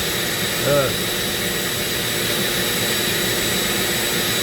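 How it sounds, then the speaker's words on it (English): A Dremel rotary tool rigged as a small lathe for carving a zebrawood ring runs with a steady, loud, high motor whine throughout, with a brief faint tonal blip near the start. "let's turn our Dremel into a lathe"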